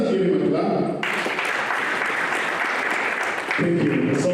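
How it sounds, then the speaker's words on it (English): Audience applause at the Kisumu National Polytechnic's annual international multidisciplinary conference: a dense, steady wash of clapping fills the middle of the clip, with a speaker's voice just before and after it. "Let us give him a clap."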